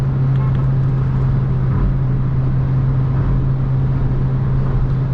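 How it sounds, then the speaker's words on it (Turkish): A 2005 Opel Astra G Classic with the 1.6 Ecotec engine cruises at 4000 rpm near 140 km/h, heard from inside as a loud, steady engine drone with road and wind roar. "4000 devirde tam 140 yapıyor."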